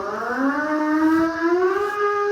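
An emergency alert system alarm siren, a single loud tone sliding slowly upward and holding steady, alone with no talk.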